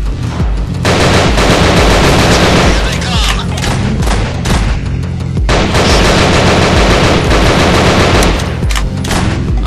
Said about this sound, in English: I'm gonna use my pistol from now on